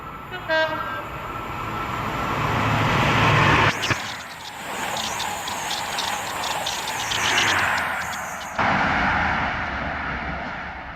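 A Great Western Railway train bound for Swansea roars through Slough station, loud and close, with a brief horn at the start and a rhythmic clatter of wheels over rail joints as the carriages pass before the noise falls away.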